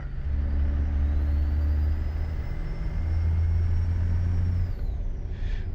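A 1,000 horsepower truck engine in a modded trucking video game rumbles loud and deep and steady, with a faint whine rising above it and a brief dip near the end.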